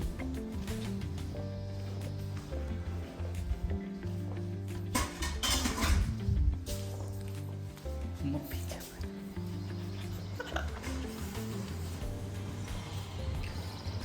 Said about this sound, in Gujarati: પાછળ છે અમારી મમ્મી, જે કે વાસણ ધોવે છે.